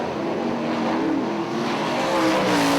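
410 sprint cars race in a heat at Ionia Raceway Park, a continuous loud engine roar with rising and falling pitch as cars sweep past, no talk.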